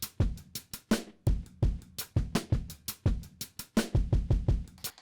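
A drum loop sample, retriggered on each kick drum by MIDI notes, stutters in a tight, punchy rhythm, with short repeated hits cutting off abruptly, loud and upfront with no voices.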